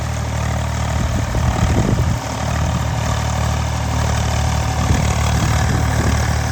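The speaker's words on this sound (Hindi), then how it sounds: "ये 42 HP वाला ट्रैक्टर है भाई।" A 42 HP tractor in first gear at about 1600 to 1700 RPM drives a rotavator through dry soil, giving a loud, steady low engine drone with some rough mechanical churning throughout.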